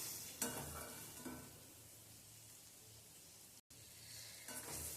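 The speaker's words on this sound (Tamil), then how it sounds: "எண்ணெயிலேயே மிதமான சூட்டில் எண்ணெயிலேயே நல்லா வறுத்து எடுத்துடலாம்" Boiled eggs fry in oil over medium heat, with a steady close sizzle and occasional stirring scrapes and clinks of a utensil in the pan.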